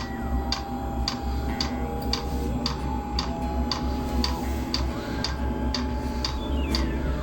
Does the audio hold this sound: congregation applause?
no